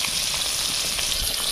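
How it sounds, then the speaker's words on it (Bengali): Koi fish frying lightly in hot oil, a dense, loud, continuous sizzle and crackle close by with no pauses. "কই মাছ বেশি ভাজলে শক্ত হয়ে যায়, কিন্তু বেশি ভাজলাম না, অল্প এপির ওপির একটু ভেজে তুলে নিচ্ছি"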